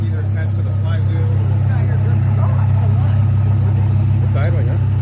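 A 2004 Chevy Colorado 3.5-litre engine idles after a rod bearing repair, a steady, deep, even rumble throughout, loud and close, while voices murmur faintly underneath.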